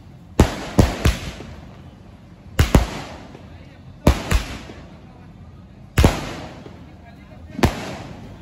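Diwali skyshot fireworks from a 30-shot box launch in a series of sharp bangs, single and in quick pairs, every couple of seconds, loud and nearby, with voices talking between the blasts.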